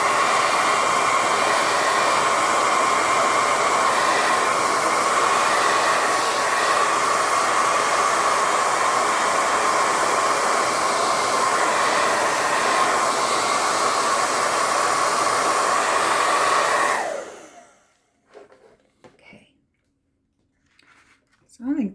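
Hair dryer drying a paper craft, a loud steady close-up blowing roar lasting about seventeen seconds before cutting off abruptly, followed by quiet with faint handling sounds.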